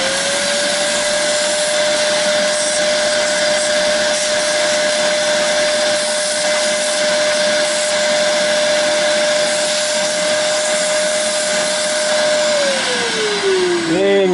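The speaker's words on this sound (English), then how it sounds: "And I got a shop vac. I got this little hose hooked up to it." A shop vac with a small hose attachment sucks cleaning solution off a Pioneer SX-3700 receiver's circuit board. It makes a loud, steady whine and airy roar, then winds down at the very end.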